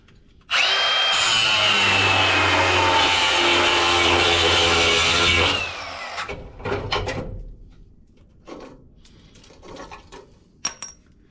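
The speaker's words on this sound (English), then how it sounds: "So hey, we got the cutting wheel out. That's how you get them off." A cutting wheel grinds through a rusted trailer U-bolt, a loud, sustained high-pitched whine for about five seconds that cuts off abruptly, followed by scattered clanks and handling noises.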